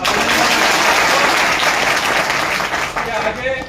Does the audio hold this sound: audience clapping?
yes